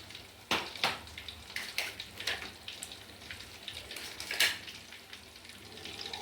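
Crab pieces drop into a simmering, thickened crab kuzhambu with oil separated on top, giving several soft splashes and crackling sizzles against a steady bubbling background, close and fairly quiet.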